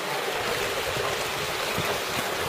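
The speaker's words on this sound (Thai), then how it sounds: "น้ำตกไหลแล้วน่ะ" A small waterfall at Thi Lo Cho in Thailand pours steadily, a close, continuous rushing and splashing roar of falling water with no pauses and no voices.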